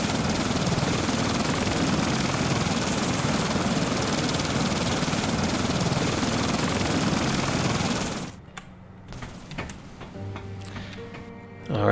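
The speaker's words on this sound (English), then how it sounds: "we're coming in for landing on the aircraft carrier now" In the Stranded Deep video game, an aircraft landing on an aircraft carrier roars with a loud, constant engine drone for several seconds, then cuts abruptly to quiet ticks and faint mechanical clicks.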